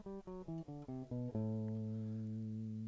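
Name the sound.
A Dorian mode scale played on an instrument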